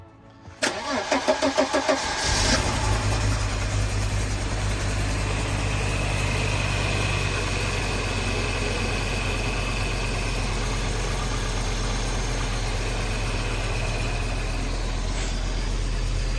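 An Audi 100 engine cranks briefly and catches, then settles into a steady, even idle that runs close and loud, with a low droning hum underneath.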